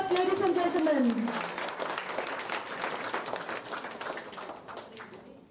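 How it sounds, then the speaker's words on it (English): Audience applause for grant winners at a youth mela, a crowd clapping steadily and fading out gradually, with a voice speaking over the first second. "Round of applause, ladies and gentlemen."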